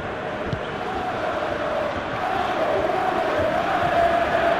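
A stadium crowd in the eFootball video game, during a Liverpool vs Real Madrid Champions League final, cheers in a dense, continuous roar that holds steady and swells slightly toward the end, with no talk over it.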